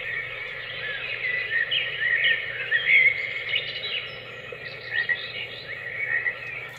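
A white noise sleep therapy machine plays its frog setting: a continuous bed of high croaks and chirps, layered and steady at moderate volume, with no voices.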